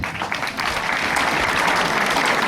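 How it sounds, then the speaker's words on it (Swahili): A school audience at a health talk bursts into dense, loud applause from many hands, sustained throughout with a faint crowd murmur underneath. "Makofi tafadhali."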